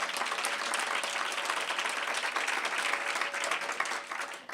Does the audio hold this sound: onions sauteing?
no